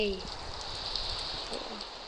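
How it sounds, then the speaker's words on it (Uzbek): Rain falls in a parkour video game as a steady, even hiss, continuous and moderately loud throughout with faint low background rumble. "Yomg'irligi menga foyda beryapti menimcha."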